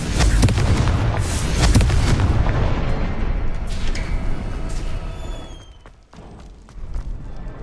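Fiery spell blasts in the Hogwarts Legacy video game: a rapid volley of loud booming explosions and crackling bursts for several seconds, fading to a lull, then a final sharp burst.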